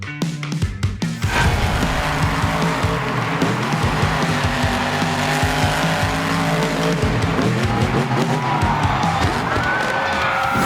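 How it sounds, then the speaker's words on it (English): A Spin Master Megalodon RC monster truck toy drives up to a ramp, its loud whining motor and rolling tires running continuously and close, with a brief rattling start. "I'll be using my Spin Master Megalodon RC to get a little practice in before the big jump."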